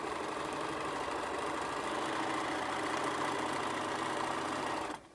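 A sewing machine runs a straight hem line on fabric for a face mask, a steady close mechanical whir that continues without a break and then cuts off at the end.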